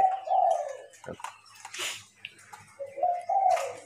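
A spotted dove used as a decoy coos in the morning, giving deep, close, resonant phrases at the start and end with softer chirps and rustling between.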